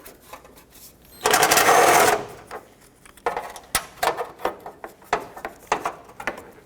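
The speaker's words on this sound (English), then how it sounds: "I'm going to take off the 2 radiator support brackets with a 10mm socket, remove the bolt." A ratchet with a 10mm socket removes a radiator support bracket bolt on a 2005-2010 Pontiac G6, heard as a burst of dense, rapid clicking followed by a run of sharp, irregular metallic clicks and knocks close by.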